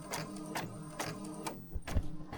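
Inkjet-style printer feeding out a photo print, its mechanism whirring with repeated carriage passes and a couple of short clunks near the end, close by and steady.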